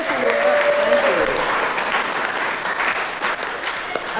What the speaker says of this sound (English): Let's have another round of applause for Nicole.